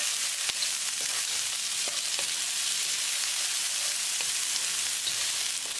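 Chicken stir-fries in a hot wok with peanuts and black peppercorns, giving a loud, dense, continuous sizzle with occasional faint scrapes and ticks of stirring, no speech.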